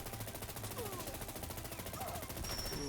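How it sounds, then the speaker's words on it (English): Rapid automatic fire from an IWI Tavor X95 rifle in Fallout 4, a fast, continuous rattle of shots at a steady rhythm through the whole stretch, with some faint game effects layered underneath and no talking. "it's going to take a little bit of shooting to drop this gunner"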